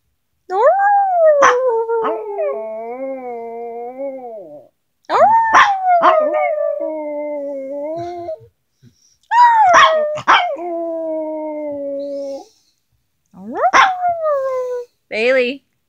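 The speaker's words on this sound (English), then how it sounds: "You want to howl?" A dog howls in four long, wavering drawn-out bouts separated by short silences, close and loud, with a few sharp yips breaking into the howls.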